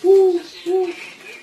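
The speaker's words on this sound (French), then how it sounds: "Le moyen duc." Two low, hollow hoots of a long-eared owl, each held for a moment with a gap between, fairly close and clear, followed by a faint trailing breathy note.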